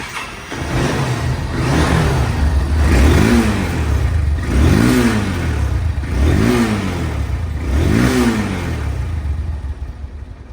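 A second-hand Honda Hornet motorcycle engine is revved in four evenly spaced bursts over a loud idle, each rising and falling in pitch, close by with no talk.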